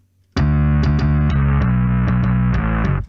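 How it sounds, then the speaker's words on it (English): Distorted electric bass through a bias distortion effect plays a driving line of repeated picked notes, loud and thick with buzzing harmonics, starting suddenly and sustaining for about three seconds, with no talk. "Doing this. It gives a little more of distortion."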